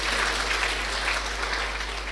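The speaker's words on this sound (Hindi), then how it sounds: "अभी ताली बजाओ अपने लिए।" A room of attendees at a spiritual class claps for themselves, a dense, steady patter of hands that fills the whole clip at moderate level with no voices over it.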